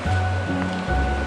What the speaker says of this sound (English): It's a beautiful river, that's for sure.